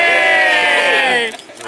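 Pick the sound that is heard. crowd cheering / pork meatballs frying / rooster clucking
crowd cheering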